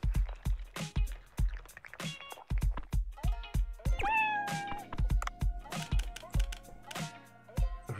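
A cartoonish cat meows in the Dave the Diver video game, several short mews rising over a rhythmic, bouncy game soundtrack with plucked and dripping tones.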